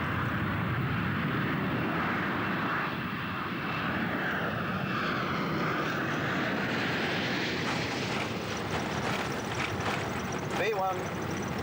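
Boeing 747-200 jet engines of a British Airways airliner roaring steadily through the takeoff roll, a loud continuous cockpit rumble with crew voices calling out over it.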